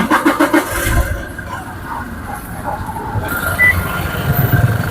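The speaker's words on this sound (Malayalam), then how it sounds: "നമുക്കിത് സ്റ്റാർട്ട് ചെയ്തിട്ട് ഇതിൻ്റെ സൗണ്ട് ഒന്ന് കേൾക്കാം." A Toyota Innova Crysta Z automatic starts up, a brief cranking burst giving way to a steady, close idle with no talk.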